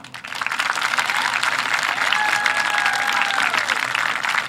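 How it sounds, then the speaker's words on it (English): Crowd applause at a Norton High School graduation ceremony, a broad steady wash of clapping from many hands, with a faint whistle rising over it partway through. "A round of applause, please."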